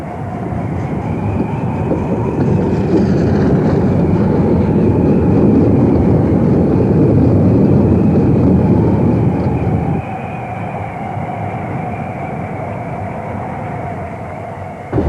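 The steam-era Western Endeavour train hauling a coal van, a spare-parts van and a workshop car rumbles steadily along the rails, close and loud, with a dense rolling roar that drops somewhat near the end.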